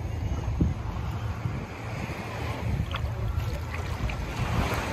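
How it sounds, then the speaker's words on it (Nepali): Waves washing against the shore off Tenerife as a ship comes in from the sea, a steady broad rumble of surf and wind buffeting the microphone, fairly loud and continuous, with no talk. "परबाट पानी जहाज आउँदैछ"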